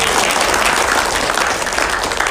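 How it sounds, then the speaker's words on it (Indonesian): Loud, dense applause from the audience at a Nagaya Technologies meet-and-greet event, a continuous close wash of many hands clapping with no pauses. "Tepuk tangannya kurang keras Bapak Ibu"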